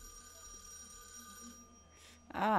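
A telephone rings in the horror video game REC Paroxysm, a brief faint ring in a quiet haunted apartment, followed by a sudden louder burst at the end.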